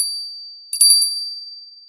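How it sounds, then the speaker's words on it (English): A single bright bell strikes with a clear ringing tone, then a quick flurry of tinkling strikes follows and rings out slowly, alone and fairly loud. "I do love a bell."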